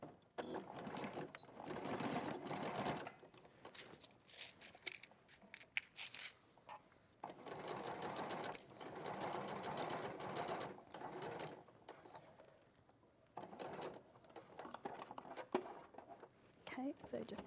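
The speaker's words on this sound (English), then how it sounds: "I'm just going to stitch that. I'm using a pink thread just so it's easier to see what I'm sewing." Sewing machine stitching with pink thread, running in several short bursts of rapid mechanical chatter separated by brief pauses, close and clear, with a person talking at times.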